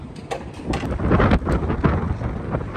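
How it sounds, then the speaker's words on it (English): Strong gusts buffet the microphone outdoors at a truck delivery in Hull, England, a loud rumbling roar that swells and fades over a few seconds. "that wind is bad"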